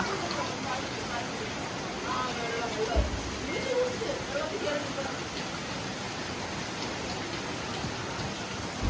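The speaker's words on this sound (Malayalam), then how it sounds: "നല്ല ശക്തമായിട്ടുള്ള മഴയില് ഇതാ കണ്ട നമ്മുടെ കാറിന്റെ ഗ്ലാസ് തുറന്നടക്കായിരുന്നു" Heavy rain pours down steadily, a dense, even hiss of countless drops, with a dull thump near the three-second mark and a faint murmur of voices buried under the downpour.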